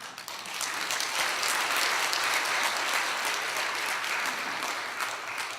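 A church congregation bursts into sustained applause during a Korean Sunday sermon, dense even clapping building quickly and holding steady for several seconds before easing slightly, with no talking over it.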